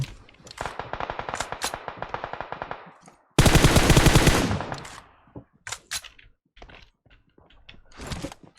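Automatic weapons fire in PUBG Mobile on the Livik map: rapid machine-gun bursts rattle in long rhythmic strings, then a loud close volley, followed by scattered single shots and short bursts trailing off at varying distances.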